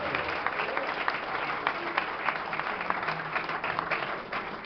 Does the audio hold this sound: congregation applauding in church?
yes